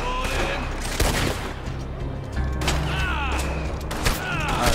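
Video game gunfire: a few sharp shots and bursts with mechanical clicks and whooshing effects, loud and close, no speech.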